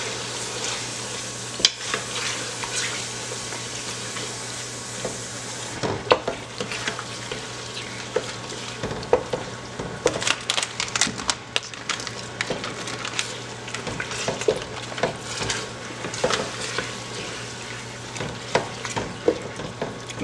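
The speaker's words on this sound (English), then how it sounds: "And I'm gonna let this fry for about 3 to 5 minutes." Jollof rice vegetable mixture of carrots, corn and green beans frying in a pot, a constant hiss broken by scraping and knocking stirring strokes, close and fairly loud, with a low hum beneath.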